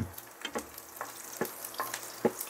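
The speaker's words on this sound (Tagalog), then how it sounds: "Atin lang itong gisahin hanggang sa ito ay maging golden brown." Garlic sautés in hot oil for beef with broccoli, a soft continuous sizzle and crackle broken by irregular scraping stir strokes, close but fairly quiet, with no talk.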